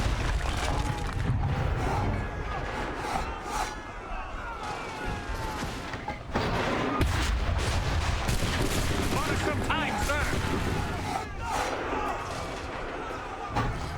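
Dense gunfire in a battle within the video game Assassin's Creed 3, loud volleys and scattered shots crackling continuously throughout with a brief lull in the middle.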